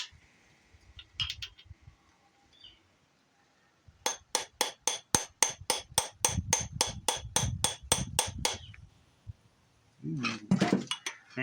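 A hammer taps a nut threaded onto a stud of a blown-up 318 V8 engine from a Ramcharger, ringing out about sixteen sharp, evenly spaced metallic strikes up close, with a few scattered knocks and clinks before and after.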